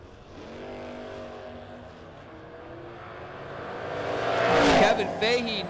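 A Dodge Charger and a 1967 Camaro at a drag race are heard as rumbling engines that build into a loud roar near the end, with an announcer talking over them.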